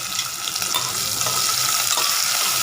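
Onion sizzling steadily in a pan for a healthy amaranth-stem curry, a continuous bright frying hiss with a few soft stirring scrapes, close and fairly loud with no talk.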